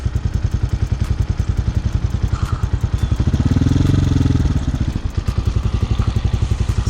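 A Honda Hawk 250cc dual sport motorcycle engine warms up at idle, a steady rapid thumping chug close by that swells briefly in a mild rev midway before settling back to idle.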